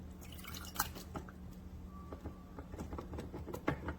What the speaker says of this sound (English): I just set it on the counter and then back flush it.